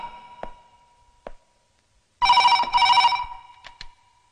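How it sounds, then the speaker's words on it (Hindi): A telephone rings indoors in two loud bursts, preceded by a few faint ticks and clicks, with short trailing chimes after the ring. "जरा देख तो बबर किसका फोन है"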